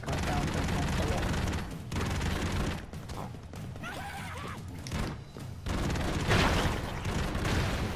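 Machine gun fire in the side-scrolling game Broforce, rapid loud bursts of gunfire with thuds and crashes, broken by short pauses, and a voice talking intermittently.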